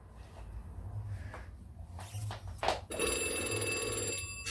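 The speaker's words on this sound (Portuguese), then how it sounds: "Telefone?" An old-style telephone bell rings loud and steady near the end, with a continuous metallic jangle after a few soft knocks and clatters in a quiet indoor room.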